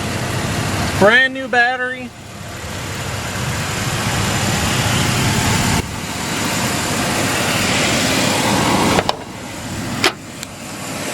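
A 2012 GMC Savana Explorer conversion van with a 5.3 liter engine idles steadily with the hood open, a low continuous engine hum under brief talk and a couple of clicks.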